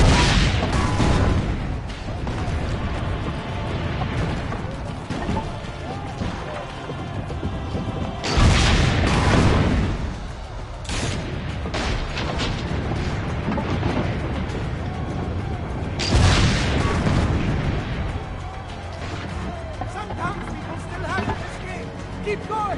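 Cannon fire in the Assassin's Creed Brotherhood video game, with heavy booms and crashes that swell twice amid dense battle noise, music and voices talking throughout.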